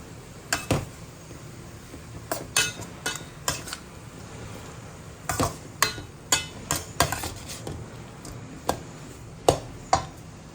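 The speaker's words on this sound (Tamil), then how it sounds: "கொஞ்சோண்டு பெருங்காயம் போட்டுட்டு கிண்டிக்கணும்." A carrot stir fry with asafoetida is stirred in a pan: quiet background hiss with a series of irregular, crisp taps and scrapes of a spatula on metal, clustered in quick bursts.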